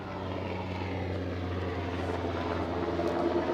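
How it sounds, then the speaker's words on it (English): A helicopter drones overhead outdoors, a steady low rotor rumble that swells slightly louder toward the end, with no voices. "And there's a helicopter."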